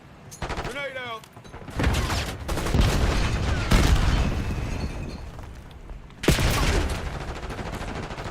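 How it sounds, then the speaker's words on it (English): A grenade explosion and rapid gunfire in the Call of Duty shooter game, with booming blasts and crackling shots in dense bursts, a sharp loud hit late on, and voices calling out briefly early. "Grenade out."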